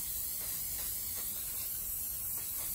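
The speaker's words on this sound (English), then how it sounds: "And I'm going to spray inside my squares." Aerosol spray can hissing in a steady, continuous light coat onto foam core board while mounting pastel paper, close and unbroken with no talking.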